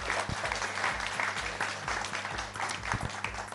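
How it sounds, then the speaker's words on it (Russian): An audience applauds at a business-lab talk show, a steady wash of many hands clapping throughout, fairly loud and close with no voices over it. "спасибо за аплодисменты"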